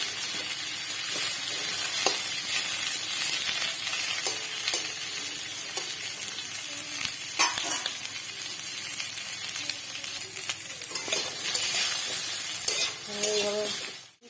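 Bitter gourd frying in plenty of ghee, a dense steady sizzle with crackling spatters and occasional stirring clinks, close and loud throughout.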